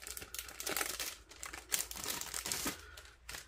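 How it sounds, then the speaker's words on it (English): A full-size stamp set pulled out of foil packaging: continuous close crinkling and rustling of foil with a few sharper crackles, no voices. "I'll pull it out so you guys can see it not in the foil."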